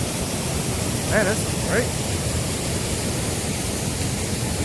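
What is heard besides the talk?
big waterfall by the water mill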